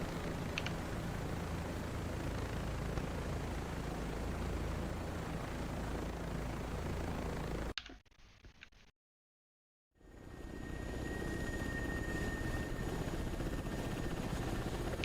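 A Ka-50 helicopter in a combat flight video game gives a steady, dense rotor and engine roar. The roar cuts out abruptly for about two seconds and then resumes at the same level.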